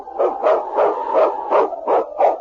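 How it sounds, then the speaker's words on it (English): A husky sled dog barks in a radio drama, giving about seven loud, close woofs in a steady, evenly spaced rhythm. "It's Yukon King, swiftest and strongest lead dog of the Northwest"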